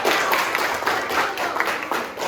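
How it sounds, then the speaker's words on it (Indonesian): Applause from a classroom group of pupils, a dense steady patter of many hands clapping at close range for the full stretch, with no talk over it. "Tepuk tangan untuk mereka."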